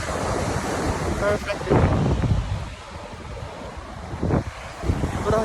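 Ocean surf breaks along a Boracay beach while strong wind buffets the microphone, a loud, continuous roar with swelling wave surges and a brief spoken remark.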